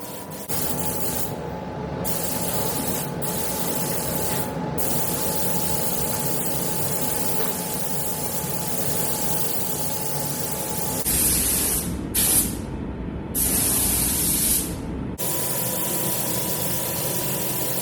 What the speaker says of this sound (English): I've sped the video up a bit here so you can see how the spraying process works